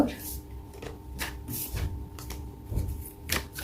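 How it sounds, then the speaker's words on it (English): Tarot cards shuffled and drawn during a pick-a-pile reading, soft rapid riffling and slapping of cards in bursts close by, with a voice speaking intermittently over them. "I'll take 2 more cards."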